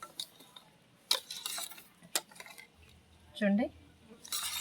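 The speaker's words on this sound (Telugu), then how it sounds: "పచ్చి నూనె వేస్తున్నాను. చూడండి, దీన్నంతా మొత్తం అంతా కలుపుకుందాం ఉండలు లేకుండా." A spoon stirs and scrapes through a green chili pickle mixture with raw oil in a metal vessel, giving intermittent clinks and a scraping swirl, and someone speaks briefly.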